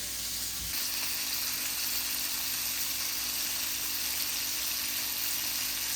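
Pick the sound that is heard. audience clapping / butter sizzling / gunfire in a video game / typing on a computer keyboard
butter sizzling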